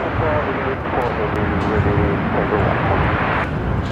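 A Jetstar Airbus A320 airliner roars steadily at Brisbane Airport, a loud, broad continuous engine rush heard from a distance with no break, while people talk over it.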